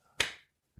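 One sharp, crisp clap cracks out nearby in a quiet room, followed by a faint soft tap a moment later.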